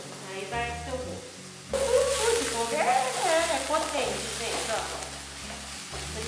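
Onion sizzles in olive oil in a pan for potato purée, a steady close frying hiss broken by a short quieter stretch near the start, with low background hum throughout and no voices.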